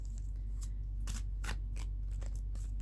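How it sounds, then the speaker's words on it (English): Tarot cards being shuffled in a quiet room, a series of soft papery riffles and swishes in uneven bursts over a steady low background hum, with no voices. "I'm shuffling right now."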